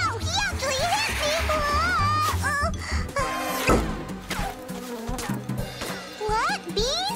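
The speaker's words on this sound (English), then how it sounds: "What? Bees?" Cartoon buzzing bees sound effect in an animated children's show, wavering whiny buzzes mixed with music and character voices.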